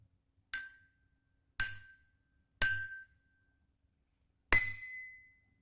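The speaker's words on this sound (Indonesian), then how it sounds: "Pertama, gelas yang kosong. Kita dengarkan bunyinya ya." An empty drinking glass is tapped four times, each strike giving a bright high clink that rings briefly. The first three come at an even pace and the last, after a pause, rings a little longer.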